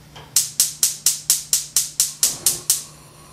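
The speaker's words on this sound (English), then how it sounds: "So you heard the clicking sound" A gas stove's igniter clicks rapidly as the burner is turned on, eleven sharp evenly spaced ticks about a quarter second apart, close and crisp over a faint steady hum.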